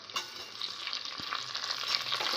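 Green chillies and tomato pieces frying with onions in a pan for ghee pulao, a faint continuous hissing sizzle with a few soft crackles, steady and close with no talking.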